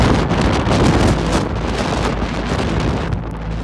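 Strong blizzard winds roaring across the crest of Mammoth Mountain, a loud, continuous buffeting rush battering the microphone throughout with no letup.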